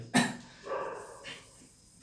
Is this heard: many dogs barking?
yes